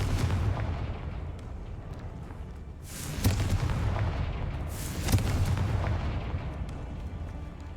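Two heavy booming blasts, a couple of seconds apart, come from the Confringo fire spell in the Hogwarts Legacy video game, rising out of a constant rumbling game background.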